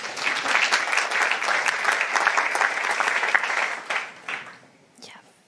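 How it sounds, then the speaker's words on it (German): An audience at a German lecture event applauds steadily for about four seconds, a dense, close wash of clapping that then thins out and fades away. "Einen Applaus bitte."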